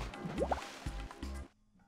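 Water drips and splashes in the Kao Challengers PSP platformer, a few soft, close liquid plops repeating in quick succession before cutting to near silence.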